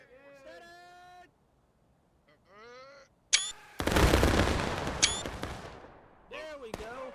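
Massed musket volley in War of Rights, a large Civil War-era drill: a sharp crack and a dense roaring burst of rifles fired together, then scattered follow-up shots, with voices talking before and around it.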